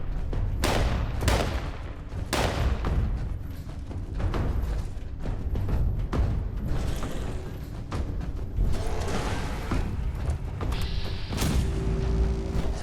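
Rapid in-game gunfire from Fallout 76, a dense run of punchy shots and booms mixed with mechanical clicks and rattles, loud and continuous throughout.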